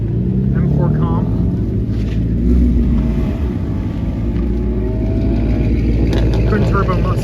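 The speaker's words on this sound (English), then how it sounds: "M4 comp." A BMW M4 Competition at a Cars and Coffee meet gives a loud, close engine roar that swells and revs over constant crowd noise, with people talking nearby.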